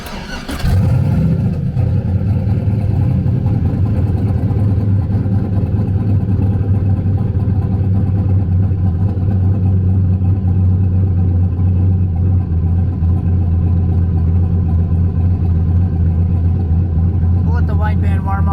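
A 4x4's engine, just back to good compression after a repair, cranks and catches, then settles into a loud, rough, steady idle that runs on at close range, with a brief rev near the end.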